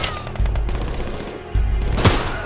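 Rifle fire from a Gewehr in the Hell Let Loose video game: loud sharp reports under a steady roar of battle, with a sustained burst near the middle and one strong close shot near the end.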